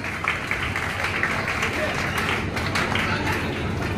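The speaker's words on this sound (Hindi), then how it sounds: "तालियां लगातार और जोरदार।" Continuous loud applause from a crowd at a Jharkhand fish-farming award ceremony, dense clapping sustained throughout with an announcer's voice over it.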